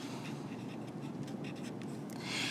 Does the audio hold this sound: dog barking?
no